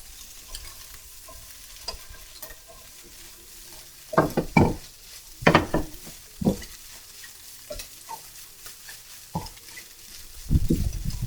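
Tofu scramble seasoned with soy sauce cooks in a pan, a soft steady sizzle running throughout while a spatula scrapes and stirs in irregular bursts, with louder clattering strokes near the end.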